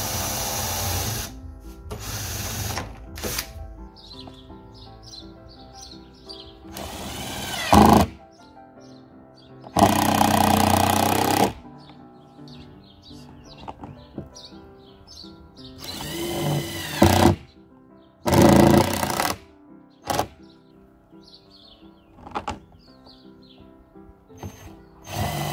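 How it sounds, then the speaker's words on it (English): A drill whirs in several short bursts through a corrugated polycarbonate sheet, pausing between holes, with faint squeaky chirps and background noise in the gaps. "Drilling the holes is easiest if you turn the polycarb sheet over"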